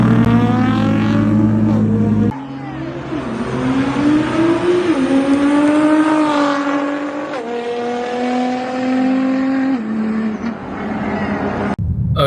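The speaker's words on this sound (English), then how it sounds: "Aventadors aren't even fair. They sound so good." Lamborghini Aventador supercars roar loudly as they rev and accelerate away from a supercar meet, engine pitch rising and falling through several gear changes over about twelve seconds with no speech.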